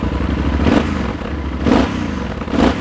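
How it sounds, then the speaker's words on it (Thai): Yamaha Super Tenere from 2016 with an aftermarket exhaust idles close by with a deep, heavy rumble, blipped up in three short revs at even intervals before settling back each time. "ถัดมาในส่วนของด้านซ้ายคันนี้มาพร้อมกับท่อแต่งจากมีฟนะครับเดี๋ยวเราฟังเสียงท่อกันนี"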